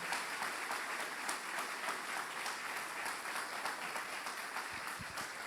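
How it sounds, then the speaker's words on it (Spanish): A church congregation at a Sunday service claps loudly and steadily for the Lord, a dense, even wash of applause filling the sanctuary from start to finish. "Dale ese aplauso fuerte al Señor"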